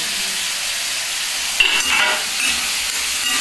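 Tomato paste hits a hot, sizzling pan, giving a steady close hiss of frying with a brief louder spatter burst partway through; no voices.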